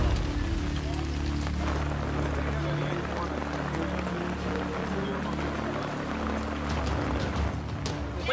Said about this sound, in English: When did this rain start?